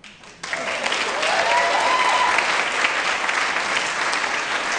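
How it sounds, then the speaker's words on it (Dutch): Audience applause for the speakers at the close of a Dutch panel event, a dense sustained clapping that starts abruptly and continues loud and even, with faint voices underneath. "Eén keer alsjeblieft een hartelijk applaus voor Meerte, Nieke, Janieke, Mart en Mirjam."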